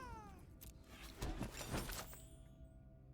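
A cat creature meowing in the MTG Arena card game, one drawn-out, fairly loud synthetic meow with rising and falling pitch over a faint game tone.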